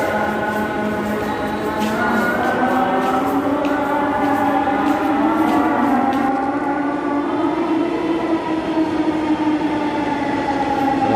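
A Dhaka metro rail train pulls into the station bound for Motijheel, its loud electric whine rising and shifting in pitch over a steady rumble of wheels for the whole stretch.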